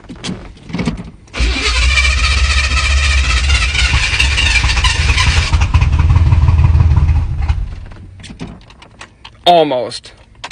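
A Chevy C10 squarebody parts truck fed gas through the carburetor cranks and catches, running roughly for several seconds before dying away, followed by brief clicks and a short voice near the end.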